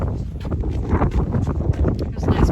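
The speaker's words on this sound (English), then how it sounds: "There's a nice breeze here." Open-air breeze rushing past the microphone at Machu Picchu, near the Temple of the Condor, with a steady gusty wind roar and low buffeting throughout.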